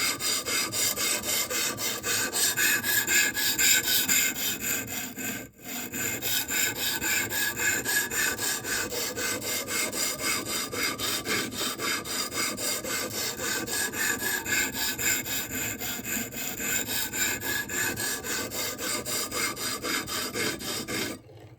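A blade being sharpened on a whetstone, a steady abrasive rasping scrape of repeated passes running continuously at close range, with one brief pause partway through.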